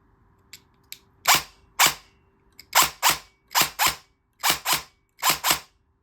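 An airsoft gun fitted with a Jefftron Leviathan V2 optical unit and a stock motor fires in binary trigger mode: six sharp snapping shots, two rapid pairs then closely spaced doubles, loud and close in a quiet room.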